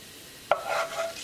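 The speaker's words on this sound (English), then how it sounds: "As the oil start to heat up, add cumin seeds." Cumin seeds dropped into hot olive oil in a pot, a sudden close crackle that settles into a soft sizzle for about a second, no talking.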